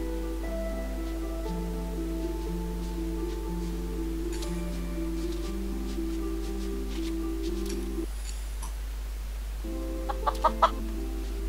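Chickens cluck in the Mini World block-building game, a steady run of repeated clucks over a constant low hum and tonal game music, with a few sharp clicks near the end and no speech.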